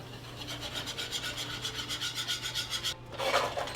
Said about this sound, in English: Now I'm going to whisk to combine.